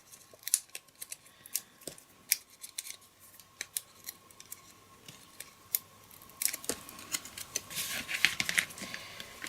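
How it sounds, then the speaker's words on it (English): Backing tape peeled off dimensional foam adhesive during papercraft card making, a run of faint, close ticking and crackling bursts that grows busier and louder toward the end. "I'm going to put this one here and remove the backing tape."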